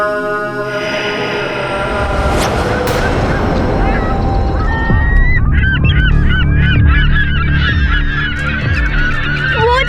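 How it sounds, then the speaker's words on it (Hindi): Goose-like birds honk repeatedly in a loud, dense chorus of overlapping calls, close by, with a steady background drone underneath. "वो देखो, वहाँ पे पक्षी दिखाई दे रहे हैं।"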